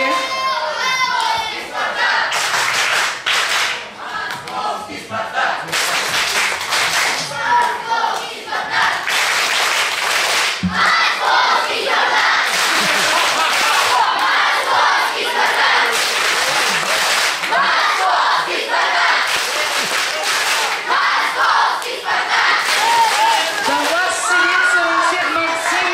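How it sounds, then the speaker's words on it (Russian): A school pageant audience in a hall shouts a fans' chant together, a loud continuous crowd roar with rhythmic bursts of yelling and clapping that carries on for the whole stretch. "Ты должна научить зал кричать кричалку болельщиков."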